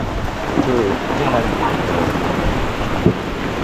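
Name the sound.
heavy rain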